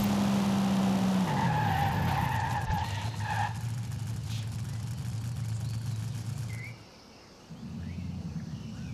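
A Firebird converted into a rally car skids around a test track in the racing game Forza Horizon 5, with a droning engine and tyre squeal that ease off, then pick up again.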